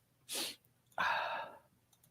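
A single sneeze indoors: a brief sharp intake followed by a loud, explosive burst, heard alone and close with no talking.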